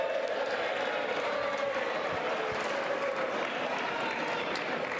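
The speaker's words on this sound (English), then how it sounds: "A lot of applause" A large crowd applauding steadily in a legislative chamber after a House vote count, a dense wash of clapping that holds at an even level throughout, with some murmuring mixed in.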